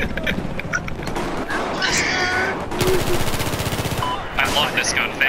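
A favorite gun fires in an online shooter: bursts of rapid automatic fire, loud and close, with a long sustained volley in the middle and a scream for a medic before it.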